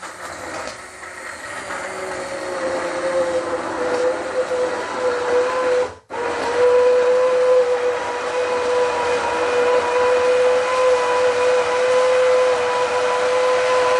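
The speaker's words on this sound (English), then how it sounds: "I'm just going to use the hand blender, and I'm going to blend up the onions and the chili and the carrots and the tomato there." A hand blender whirs steadily as it purees onions, chili, carrots and tomato, a loud continuous motor whine that dips for a moment in the middle and then runs on.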